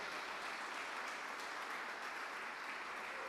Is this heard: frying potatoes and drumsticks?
no